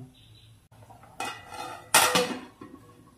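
A metal lid is set onto a pot of cooking chicken curry on a gas flame, with two or three clanks and a scrape, the loudest near the end, over a quiet kitchen hum.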